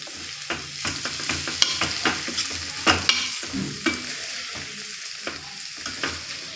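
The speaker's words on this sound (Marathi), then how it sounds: "दोन ते तीन मिनिट छान झाकण ठेवून परतून घ्यायचा आहे वाफून घ्यायचा आहे" Potatoes coated in masala sautéed in a covered pan, with steady sizzling and frying broken by repeated sharp scrapes and clinks of stirring, up close.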